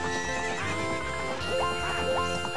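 A horse neighs in The Legend of Zelda: Ocarina of Time on the N64 at Lon Lon Ranch, a short whinnying call over steady game music.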